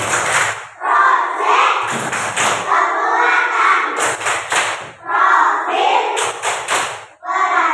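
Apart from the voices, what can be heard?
class doing a rhythmic clapping chant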